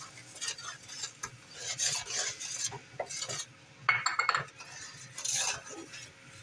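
Scraping and stirring in a pot as thyme, salt and pepper go into homemade chicken pot pie filling, with several rasping strokes and a few light metallic clinks, close and moderately loud with no talking.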